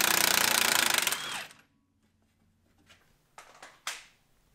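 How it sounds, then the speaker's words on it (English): An impact wrench hammering on the lower bolt nuts of a Porsche 944 front strut assembly, a loud close rattling burst that stops, then a few clanks of tools. "so you can get an impact to the nuts of the 2 lower bolts on the front strut assembly"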